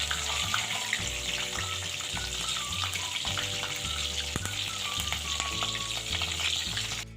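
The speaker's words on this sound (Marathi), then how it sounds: "सोनेरी रंग होईपर्यंत आपण याला तळून घेऊया आणि असे सगळे वडे आपण करून घेऊया" Udid vadas fry in hot oil with a loud, continuous crackling sizzle that stays dense and even from start to finish, close up and with no voices.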